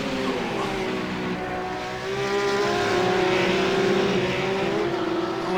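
Race cars circling a track at a night race meeting, with a lapping car passing, make a loud sustained engine drone whose pitch rises and swells as the cars go by.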